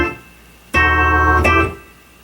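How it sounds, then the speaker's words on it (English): Keyboard plays an old Dixieland chord progression: two sustained, rich chords struck loud and close, the second entering before the first fades, then ringing out alone. "old Dixieland progression that sounds like this"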